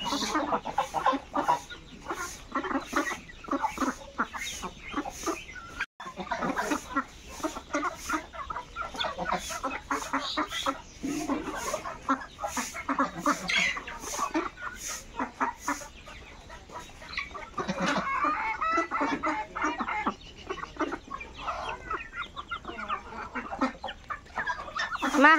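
A flock of ducks crowds together and feeds on scattered rice near a river, with continuous busy quacking and clucking calls close by throughout, no talk heard.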